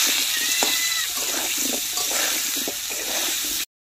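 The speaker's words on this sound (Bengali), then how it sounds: "এবার নেড়ে চেড়ে নেবো ভাজার জন্য।" Potatoes and pointed gourd, dusted with turmeric and salt, are stirred while frying in oil in a pan: a dense, continuous sizzle with soft scraping strokes underneath, then it cuts off abruptly.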